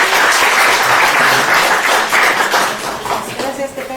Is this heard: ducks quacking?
no